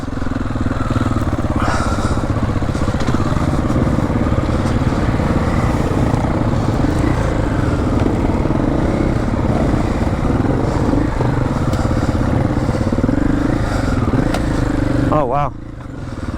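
Triumph 450 Enduro motorcycle ridden near Barcelona, a steady loud engine drone with shifting revs and wind buffeting throughout, ending in a brief high whine.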